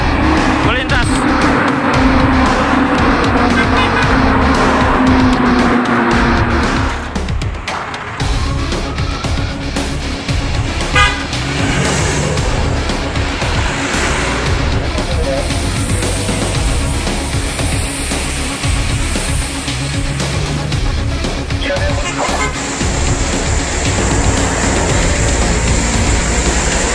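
Convoy of escort vehicles carrying COVID-19 vaccines passing one by one on the Jakarta-Cikampek toll road, a loud continuous roar of engines and tire noise close by, with sirens and a reporter's voice over it.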